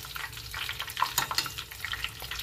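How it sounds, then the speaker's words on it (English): Soft crackling and sizzling of egg rolls frying in oil, with irregular pops and spits close by, fairly quiet and without any voices. "So they're lightly frying up lightly golden."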